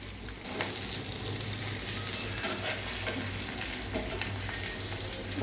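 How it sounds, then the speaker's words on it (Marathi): Bangda mackerel fish fry on a tawa, giving a continuous crackling sizzle with small pops throughout, steady and moderately quiet, with no talking. "आता ही सगळी मच्छी तव्यावर टाकून झाली आहे।"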